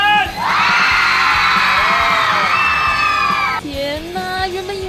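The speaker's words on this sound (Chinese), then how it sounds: "那个全部人一起尖叫的" A packed fan-meeting crowd screams together in one long, loud, high-pitched shriek lasting several seconds before it breaks off into scattered cheers.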